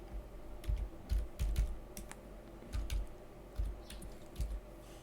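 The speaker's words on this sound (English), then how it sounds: "I'm going to just type this code" Code being typed on a computer keyboard into PowerShell, close-up clicky keystrokes in short irregular clusters with brief gaps between them.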